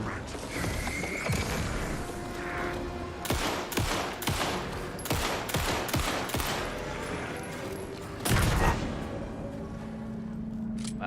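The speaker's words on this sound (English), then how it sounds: "Wow, shotgun's real good." Shotgun fire in Alan Wake 2, a string of loud, close booming blasts spaced a second or so apart in the middle of the stretch, followed by a heavy impact near the end, set over constant game noise.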